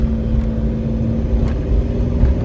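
Car engine inside a moving car, a steady low drone with a constant tone and no clear rise in pitch while the driver accelerates, loud and close with no talking.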